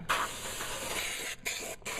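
An aerosol can sprays a long, loud, steady hiss into a motorcycle trunk liner, broken by two brief gaps before it resumes, close by.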